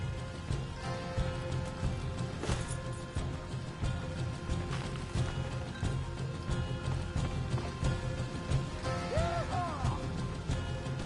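Hooves pound rapidly as several horses gallop in the video game Red Dead Redemption 2, a steady rumbling clatter with a brief whinny near the end.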